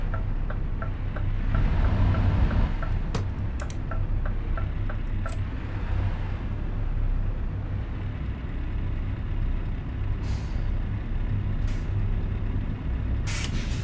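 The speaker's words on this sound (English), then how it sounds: "Handbrake on, and it is now." A truck's handbrake is applied in Euro Truck Simulator 2 with Promods in British traffic, with short sharp air-brake hisses over a steady idling engine rumble and light ticking.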